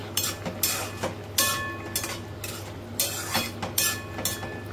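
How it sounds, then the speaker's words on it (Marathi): Peanut powder spooned into a pan of Marathi-style brinjal curry and stirred, giving repeated scraping and clinking bursts of spoon against pan over a steady low hum, close by with no talking. "आता यामध्ये टाकते आता दोन चमचे आपले शेंगदाण्याचा कूट."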